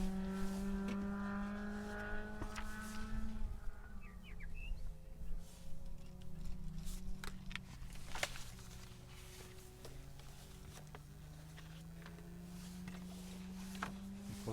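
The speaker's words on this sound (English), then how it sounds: "now comes the Toyota Altessa RS200" Toyota Altezza RS200 rally car, number 63, runs a special stage of the 2019 Otago Rally. Its engine holds a steady, shifting drone that rises and falls in pitch throughout, with birds chirping faintly around it and no talk.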